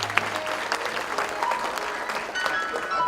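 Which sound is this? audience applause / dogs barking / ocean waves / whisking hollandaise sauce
audience applause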